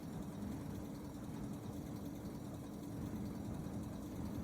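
A car engine idles in The Long Drive with a steady, low, even rumble that stays constant and fairly quiet throughout, with no speech over it.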